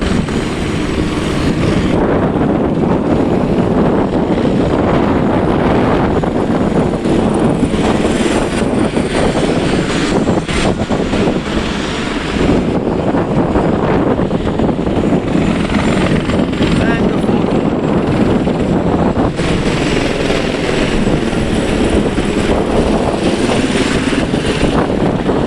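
Helicopters take off near a cruise ship port in Skagway, Alaska, their loud continuous rotor thump and turbine whine filling the scene at close range with slow swells in intensity.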